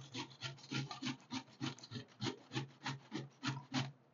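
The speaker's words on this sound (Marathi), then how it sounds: "तर हा जो मोठा भाग आहे किसणीचा, ह्याच्याने आपण ती किसून घ्यायची आहे" Raw mangoes being grated on the large side of a grater, a close, quiet, rhythmic rasping of strokes about four per second, each scrape distinct and even, with nothing else heard.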